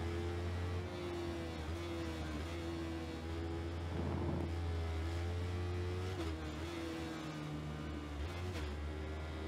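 A motorbike engine in the racing game Ride 4 holds a steady, droning high-revving whine with slight pitch shifts as it accelerates, loud and continuous throughout.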